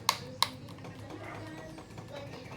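A motorcycle starter with a fault gives two quick, sharp clicks without cranking the engine, close up over a low steady background hum.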